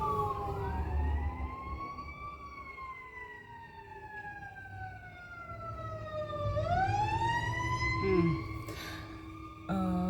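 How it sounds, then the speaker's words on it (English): An emergency siren wails outside, sweeping up and down in pitch as it passes, fairly loud over low traffic rumble. "pardon the siren, y'all"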